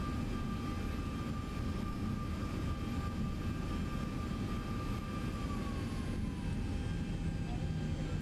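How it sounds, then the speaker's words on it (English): Steady, loud jet engine roar with a high whine, continuous and unchanging throughout, like an airliner's engines idling or spooling on the ground; Boeing 737-800 engines in the X-Plane 11 flight simulator. "engine noises sound so much better than the default X-Plane sounds"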